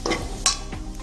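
Chili powder stirred into a frying tomato egg bhaji, a few quick scraping stirs over a soft sizzle in a short burst.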